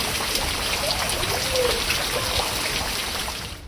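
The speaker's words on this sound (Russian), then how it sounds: "Мощный шторм Клаудия принес в Португалию ураганный ветер, проливные дожди и сильное волнение на море." Heavy rain from storm Claudia in Portugal pours down in a steady, dense hiss of drops on hard surfaces, constant and loud, tapering slightly at the very end.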